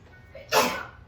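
A single short sneeze during a yoga class, a sharp breathy burst at moderate distance in an otherwise quiet room.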